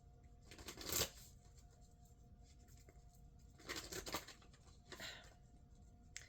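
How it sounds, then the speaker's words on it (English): A deck of cards being shuffled in quick riffling bursts, three separate shuffles with short pauses between, close and fairly quiet. "That was a terrible shuffle."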